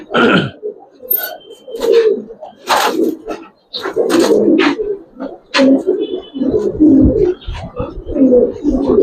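Giribaz and coloring pigeons coo in short bursts at close range, mixed with wing flutters and shuffling, while people talk intermittently.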